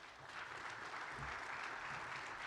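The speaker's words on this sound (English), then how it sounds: "Let's give him a bigger round of applause." Audience applause at the close of a talk, steady broadband clapping that fills the whole stretch at moderate distance with no voices over it.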